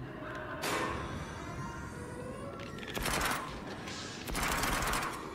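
Uzi gunfire in the Switchback VR rail-shooter on PSVR 2: three separate rapid bursts, the last one longest, each standing out loudly over a steady rumbling game background.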